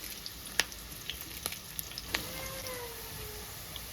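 Steady, close crackling sizzle of green chillies and curry leaves frying in hot oil with onions, with a few sharp pops and spits over the continuous hiss.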